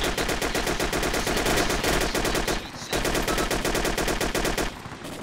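Gunfire from the video game ARMA 2 rattles in loud, dense automatic bursts, with a brief pause before the shooting resumes just as heavily.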